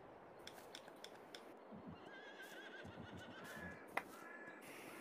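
A horse in Farming Simulator 22 gives a drawn-out whinny over a steady farmyard background, with a few soft hoof clops and a sharp click near the end.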